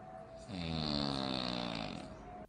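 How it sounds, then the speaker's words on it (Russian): A single long, loud snore on an inhaled breath, droning and rattling for about two seconds close to the listener, then fading out. "Храп – специфический процесс, сопровождающий дыхание человека или животного во сне и выраженный отчетливым, низкочастотным, дребезжащим звуком и вибрацией"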